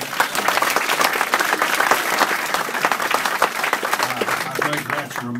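An audience at a roots music show applauds steadily throughout, dense clapping from a hall full of people with a few voices mixed in toward the end.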